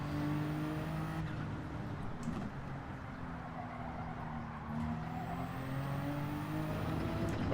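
Race car engine in Gran Turismo 7 at the Nurburgring, faint engine tones rising and falling through gear changes, with tire and wind noise in the background.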